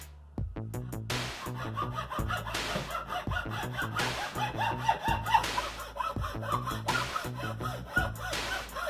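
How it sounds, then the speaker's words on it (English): A hacksaw cuts a wooden block with steady back-and-forth strokes, each one a loud rasping rub repeating in a regular rhythm close by, with no talking. "I am using a hacksaw to cut 2 10-inch pieces from the wood block."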